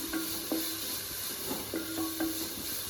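Finely chopped onions sizzle steadily in a pan for kothu porotta while a spatula scrapes and taps against the metal every half second or so, close and even.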